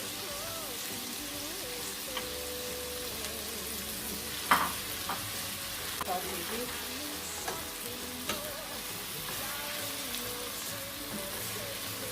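Saltfish fries in a pan for plantain cups, a steady soft sizzle with occasional stirring clinks and scrapes, fairly quiet and close.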